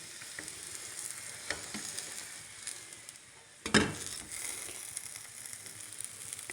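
A radish-stuffed Punjabi whole wheat paratha sizzling steadily on a hot pan, with a soft continuous crackle, scattered small pops and one sharper clatter near the middle.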